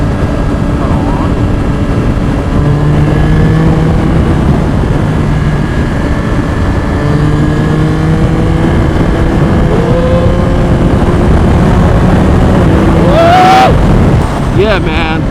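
Yamaha R9 motorcycle being ridden, a loud sustained engine drone with rising and falling revs and heavy wind rush, continuing steadily throughout with a brief sharp surge near the end.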